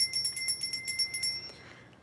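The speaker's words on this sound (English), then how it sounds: "It's good to have a bell in the house because it does cleanse the energy and the vibration in the room" A small bell rung in a quick run of about a dozen bright, ringing strikes, then left to fade out over the last half second, close and fairly quiet in a still room.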